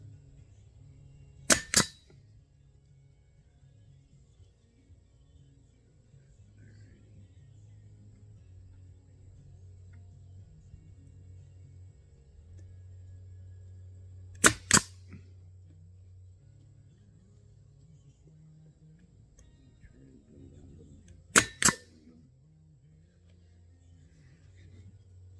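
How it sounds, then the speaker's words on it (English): Nails are hammered into a wooden shelf in three sharp double-knock bursts spread far apart, loud and close, with a low hum in between. "Just put a few more nails in it."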